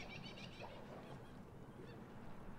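A bird calls in the video game else Heart.Break() with faint honking, goose-like cries early on that fade into soft background ambience.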